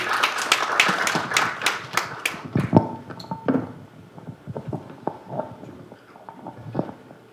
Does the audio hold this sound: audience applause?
yes